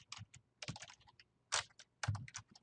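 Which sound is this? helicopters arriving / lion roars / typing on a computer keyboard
typing on a computer keyboard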